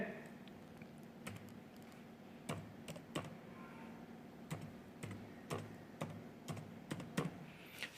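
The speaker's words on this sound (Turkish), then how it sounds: "Önce Sinovak'ı yazalım tekrardan." Fingers type on a computer keyboard, entering a search for the Sinovac vaccine website: irregular bursts of close, crisp key clicks with a steady low hum underneath.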